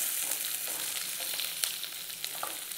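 Onions, a mix of large and small shallots, added with cardamom and spices to hot oil for a Chettinad chicken masala, frying in a steady broadband sizzle with light crackles and pops, close and continuous, no talking.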